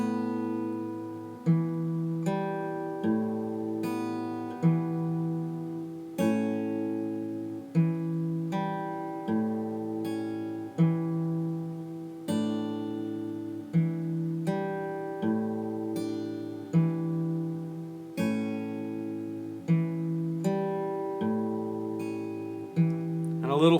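Acoustic guitar fingerpicked at a relaxed, even pace, bass notes and chord tones plucked together while a simple melody rings on top through a steady set of chord changes. Each pluck is close and clear, with no talking.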